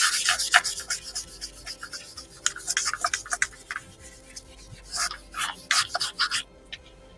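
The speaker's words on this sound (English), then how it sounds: "this was probably too fine of sandpaper for this application, but it's what I have readily available at the moment." Fine sandpaper rubbing across a painted chalk-stenciled sign, heard as close, scratchy back-and-forth strokes in uneven bursts that grow stronger toward the end before stopping abruptly.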